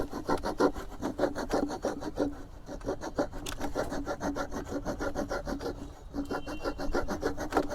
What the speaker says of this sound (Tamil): இந்த மாதிரி பெரிய கட்டைகளை கூட லைட்டாக வெட்டி பார்க்கலாம்.